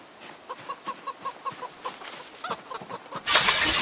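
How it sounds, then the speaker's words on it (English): Chickens in the game Project Zomboid cluck in a quick, steady series of short calls, followed by a burst of louder, hissy rustling near the end. "let's check on these chickens"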